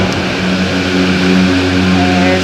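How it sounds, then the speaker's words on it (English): Cable car cabin running on its line at an Alpine lake hiking area, a steady droning mechanical hum with tonal whine heard close and continuous throughout, no talk. "There's a cable car."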